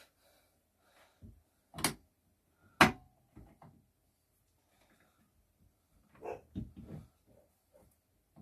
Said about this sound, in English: The dog barking quick.